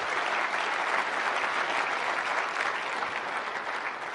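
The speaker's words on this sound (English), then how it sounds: "Another round of applause." A large conference audience at an HP Big Data keynote applauds loudly and continuously, a thick, even roar of clapping with no break.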